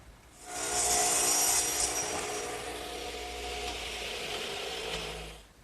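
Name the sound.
saw cutting a wooden garden swing part at an angle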